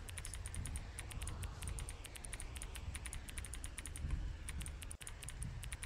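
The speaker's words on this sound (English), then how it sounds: "Why does it sound like a mechanical keyboard?" Rapid mechanical-keyboard-style clicking in an indie short horror game set in a forest, a steady run of crisp keystroke ticks over low background noise, with no voice.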